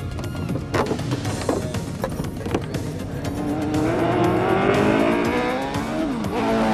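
Race car with a 650-horsepower Judd V10 3.5 litre engine at a 1997 Irish Super Prix, passing loud and close with harsh revving, gear changes and tyre noise, then a rising high-pitched engine scream as it accelerates away.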